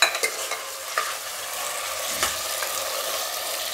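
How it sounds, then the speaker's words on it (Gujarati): Potatoes with their peels on are stirred in hot oil for a Gujarati potato dish, giving a soft, steady sizzle with a few scraping stirs of the spoon near the start and again mid-way. "થોડીક વાર તેલમાં ફેરવવાનું"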